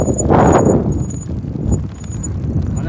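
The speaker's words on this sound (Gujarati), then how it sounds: "અમારી સાયકલ ગાંગરે છે, હવે બૂમ પાડે છે ને" A bicycle gives a loud, shrill squeal that swells and fades, then returns more faintly a couple of times over a few seconds, close by and without speech.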